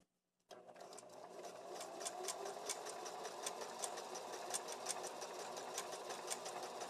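A sewing machine with a twin needle stitches a sweater knit hem, starting suddenly after a moment of silence and running as a steady, fast, rhythmic mechanical whir with faint ticking, close and quiet.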